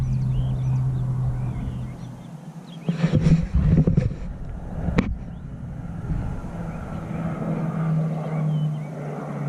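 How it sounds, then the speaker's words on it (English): A steady low drone of a propeller plane passing overhead, with a few brief clattering sounds partway through. "This airplane's ruining the audio."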